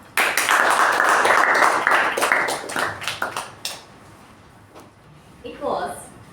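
A Toastmasters meeting audience claps loudly and densely to welcome a toastmaster. The applause fades into scattered final claps, followed by a quieter pause and a brief voice at the end.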